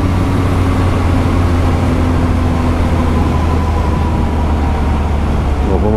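A Triumph Speed Triple RS three-cylinder motorcycle engine drones steadily at cruising speed, loud and constant under rushing wind noise, with no pauses.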